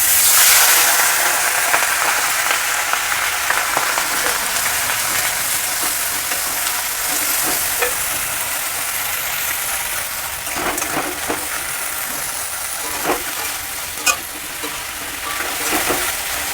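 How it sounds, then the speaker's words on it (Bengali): Spices frying in hot oil for Bengali doi katla, a loud, steady close sizzle hissing throughout with occasional small pops and spatters. "তেলেতে আমি এবার মশলাগুলো ছেড়ে দেব।"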